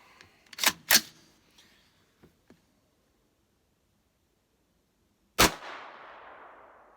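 Sharp reports from an Allegiance SilentStrike gun shooting low and failing to eject: two close cracks near the start, a few faint clicks, then after a pause one loud shot with a decaying tail, no talking.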